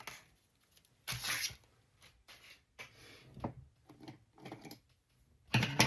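Short bursts of tearing and crinkling as a 1990 Score baseball card wax pack is pulled open, separated by quiet pauses, close and fairly soft.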